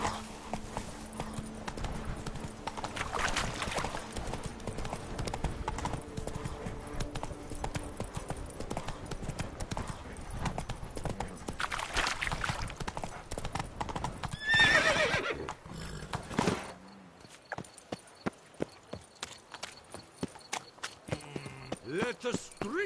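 Roach the horse gallops in Witcher 3: Blood and Wine, with steady clip-clop hoofbeats running throughout and a whinny partway through, ending in sharper separate hits. A voice is heard briefly.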